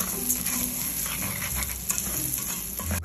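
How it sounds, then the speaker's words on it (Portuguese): Rice frying in a pan, a crackling sizzle with scraping stirs and light patter, steady and close with faint clinks of the pan. "Aqui a gente vai fritar esse arroz agora."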